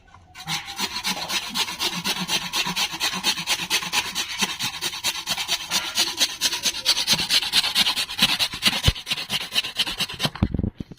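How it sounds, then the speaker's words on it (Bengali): A raw potato being grated in a home kitchen while making pizza patties, a steady, continuous rasping scrape of rapid strokes that runs close and loud for about ten seconds before stopping abruptly. "এবার আমি আলুটাকে গ্রেট করে নেবো"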